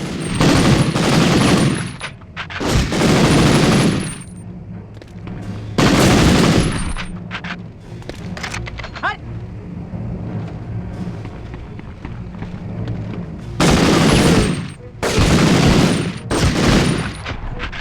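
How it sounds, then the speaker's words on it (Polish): Bursts of rapid automatic gunfire from the 1999 PlayStation game Medal of Honor, several loud volleys separated by quieter stretches of ambient rumble and scattered shots. "Ktoś za nami strzela."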